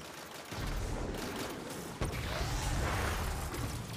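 Heavy weapon fire in Destiny's Hollowed Lair Grandmaster strike, a loud sustained burst of shots hammering at loot, with a brief break near the middle before the firing resumes, no talking.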